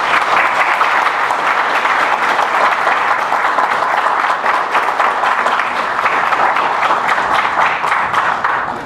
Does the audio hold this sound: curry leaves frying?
no